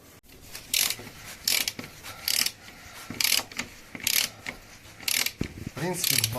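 A ratchet wrench loosens bolts and a nut on a Kia Cerato 2 steering rack that has a knocking fault. Close, loud bursts of rapid clicking repeat roughly every second.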